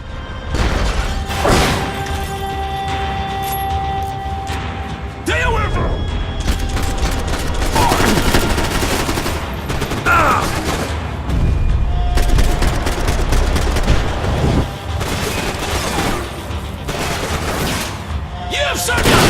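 Sustained gunfire in a Max Payne 3 shootout, with dense bursts of shots and heavy booms rolling almost nonstop at close range, while voices speak over the action.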